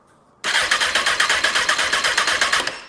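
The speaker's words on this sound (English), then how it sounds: "cranking the motor" A wrecked Honda sportbike's starter cranks the engine after a brief quiet moment, a loud close whirring with a fast, even pulsing rhythm that runs for a few seconds without catching.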